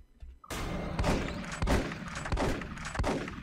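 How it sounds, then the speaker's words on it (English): Shotgun blasts from Space Beast Terror Fright boom out in a loud, regular series of about five heavy shots after a brief quiet start, with no talk over them. "I can't see anything, but I have a shotgun. And if I pull the trigger enough, you will eventually go away."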